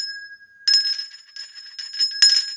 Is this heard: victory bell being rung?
yes